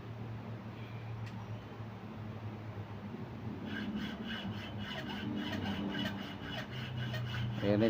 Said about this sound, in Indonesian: Oke, kita potong aja pakai gergaji ya,